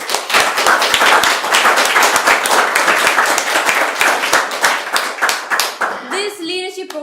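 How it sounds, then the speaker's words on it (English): Audience applause at a leadership event is heard close up, with crisp individual claps in a fast, fairly even rhythm; it thins out near the end, where a voice starts speaking. "Can we give them another round of applause?"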